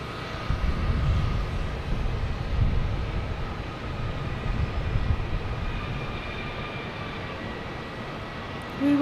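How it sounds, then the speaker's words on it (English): An American Airlines Airbus A321 jet heading to Miami at Boston Logan Airport roars in a steady, broad rumble that holds for the whole stretch, with no voices over it. "We have American Airlines here, an A321 heading to Miami."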